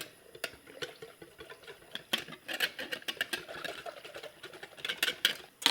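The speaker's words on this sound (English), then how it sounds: "So we'll whisk this until it's nice and mixed in." A whisk beats cornstarch into teriyaki sauce for make-ahead beef teriyaki, giving rapid, irregular ticking and scraping clicks against the pan or bowl that run steadily and fairly softly throughout, with no speech.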